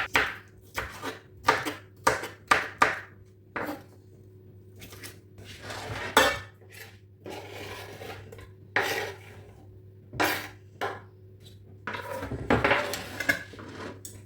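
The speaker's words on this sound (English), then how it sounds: "So I will slice everything together now." A knife slices cooking ingredients for noodles and plantain, giving a run of sharp, close cuts and knocks against a board, then scattered clatters and scrapes of utensils and dishes with pauses between.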